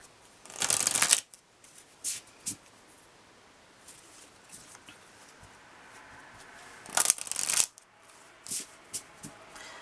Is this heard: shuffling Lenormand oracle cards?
yes